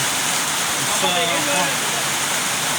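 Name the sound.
heavy rain falling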